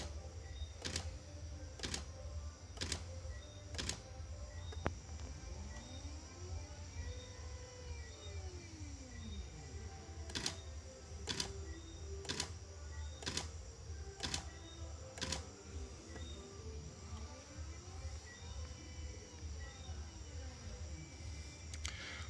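Camera shutter clicking repeatedly in an automated texture scanner, sharp evenly spaced snaps in bursts over a steady motor hum with sweeping whirs as a polarizer turns, close and without talk.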